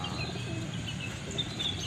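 Soft coos and scattered chirps from a flock of about 350 homing pigeons at a race release, steady and moderately loud, with a constant low rumble of movement beneath.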